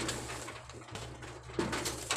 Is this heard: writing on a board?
no